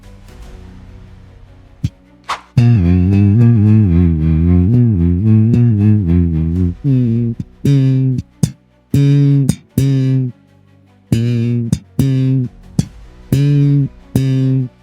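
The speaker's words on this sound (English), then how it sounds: "You can see your voice humming has been transformed to a slap bass." A slap bass line generated by AI from a hummed melody: a sustained, gritty bass phrase at first, then a series of short punchy plucked notes in an uneven rhythm with gaps between them, loud and alone.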